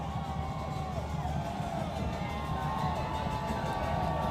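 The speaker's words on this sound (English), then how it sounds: "crowd, the band, it's deafening here at Panther Stadium" Loud stadium crowd at a high school football game at Panther Stadium, cheering and shouting steadily with a band mixed in, a dense continuous roar throughout.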